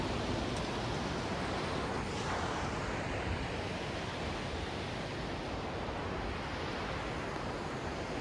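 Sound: several waterfalls flowing in Gangotri valley

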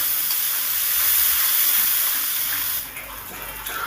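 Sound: spices sizzling as a little water is added

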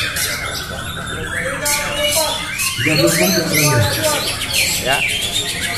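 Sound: white-rumped shama (murai batu) singing at a bird contest

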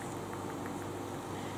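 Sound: electric fan running in a kitchen

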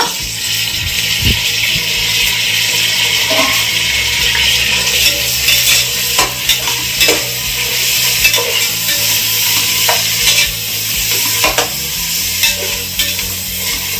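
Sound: tomato and onion frying and being stirred in pan

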